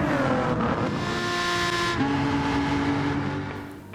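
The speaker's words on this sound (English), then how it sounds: "the car we're going to be using is this one of the latest additions to Gran Turismo 7, the Maserati MC20" A Maserati MC20 in the racing game Gran Turismo 7 revs steadily with a loud, continuous engine drone and rising tonal whine, heard alone for a few seconds before fading slightly.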